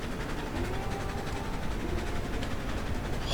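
A heavy steam locomotive hauling a weighty train up a steep snowy mountain pass in a blizzard, in the Railroads Online game, gives a steady, continuous rumbling chug with rail noise and wind, with no talk.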